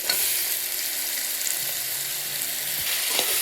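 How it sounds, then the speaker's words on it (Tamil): Steady sizzle of eggplant frying in masala with occasional stirring scrapes, continuous and close, no voices. "இந்த கத்திரிக்காயை இப்போ ஆட் பண்ணிக்கிறேன்"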